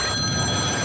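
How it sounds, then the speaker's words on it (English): A telephone rings for an incoming call during a live call-in podcast, a steady electronic ring held close and loud throughout. "We got a phone call? Phone call."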